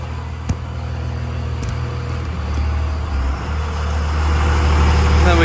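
A 24-valve Cummins diesel truck idles on a dyno with a steady low rumble that gradually grows louder and heavier toward the end, with a brief clank early on and no talking.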